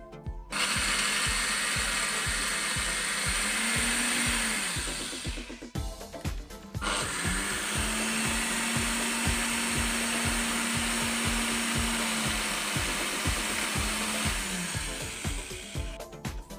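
A mixer grinder whirs loudly in two long runs, its motor winding down briefly in between before starting up again.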